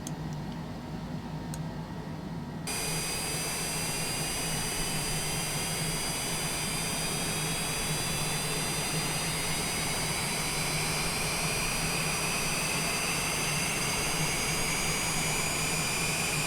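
Jet engine number 2 on an aircraft spools up: a loud, steady roar and rising whine build after a quieter cabin hum, with the whine climbing in pitch over the course of the start.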